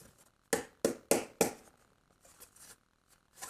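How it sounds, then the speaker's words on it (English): Laser-cut plywood pieces are tapped out of a cut panel: four sharp, close knocks in quick succession, then a few softer, scattered taps and light rattles, with no talking. "we'll just kind of tap them, see which ones fall out"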